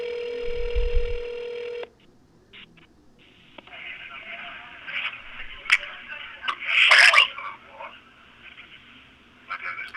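A telephone call opens with a steady ringback tone and a low hum. It gives way to faint line noise and clicks, then a few short bursts of a distant voice over the line.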